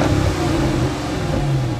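A Dodge Challenger SRT8 with a 6.1-liter Hemi V8 roars loudly and close in one sustained, rough rev.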